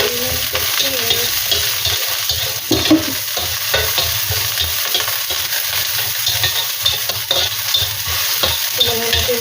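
Squid and onions fry in a pan with a constant loud sizzle, while a utensil stirs and scrapes in irregular knocks throughout.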